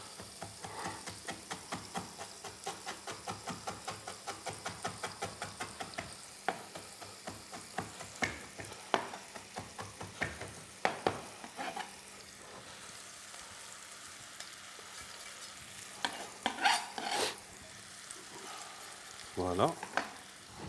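A dish simmering over low heat in a pan gives a steady bed of sizzling with dense rapid clicks and scrapes of stirring at first, then occasional louder knocks and clatters, while soft voices murmur in the background.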